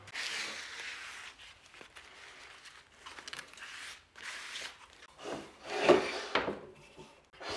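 Scraping and rubbing of glue squeeze-out along a freshly glued wooden board joint, with an uneven run of rasping strokes across the wood and a louder, sharper scrape near the end, heard alone with no talk.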